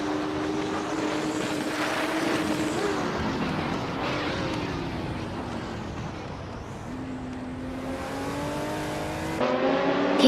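Engine of a 1980 Ford Capri Zaxpeed race car in a racing video game: a loud, steady, droning roar that shifts pitch as the car changes gear and speed, rising toward the end.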